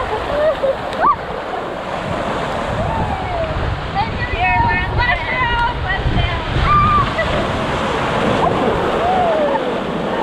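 Steady rushing water from a waterfall at a water park fills the scene, loud and close, with splashing and voices calling out over it.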